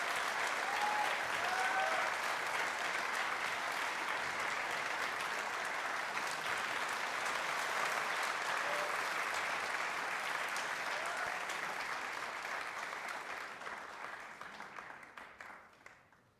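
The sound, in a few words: audience applause for the guest of honor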